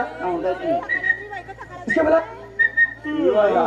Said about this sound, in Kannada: ಸೀಟಿ ಹೊಡಿತಾ ಇದೀನಿ